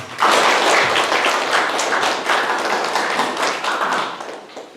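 Sustained applause from a community audience at a town meeting with a city mayor in Sojeong-myeon, Sejong: dense, steady clapping that swells in at the start and carries evenly to the end, with no talk over it.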